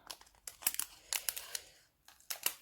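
Scissors snip through the end of a plastic sachet, giving a few short, close crinkling cuts in separate bursts with brief pauses between them.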